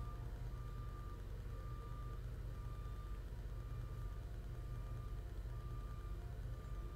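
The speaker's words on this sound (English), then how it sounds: "this beeping isn't getting further away or closer" Steady repeating reversing beeps from a vehicle outside, coming in regular pulses at a constant distance over a continuous low engine rumble, with no one speaking.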